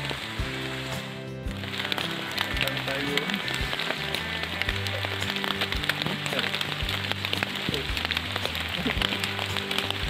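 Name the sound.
rain falling on a mountain trail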